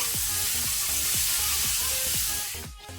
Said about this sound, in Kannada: ಈಗ ಈರುಳ್ಳಿಯನ್ನು ನಾವು ಸ್ವಲ್ಪ ಫ್ರೈ ಮಾಡುವ